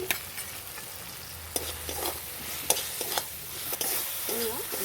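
Tomato chutney sweetened with a little sugar sizzles in a pan under a low hiss, broken by several sharp scrapes and taps of a spoon stirring against the metal.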